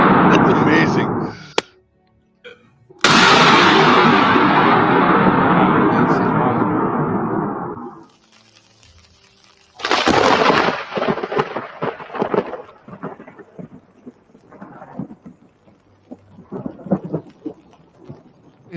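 A loud impulse in a reverberation room, sharp like a gunshot, rings out in a long echoing decay lasting several seconds, followed by a second burst and scattered fading reverberant knocks.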